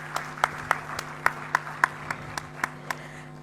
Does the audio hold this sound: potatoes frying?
no